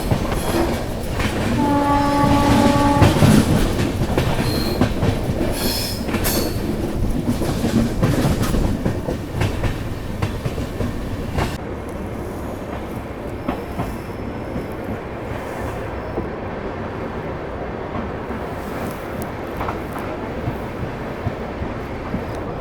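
Passenger train No. 12089 heard from inside a carriage: a steady, loud rolling rumble with rail clatter and horn blasts early on, then a calmer, quieter running roar.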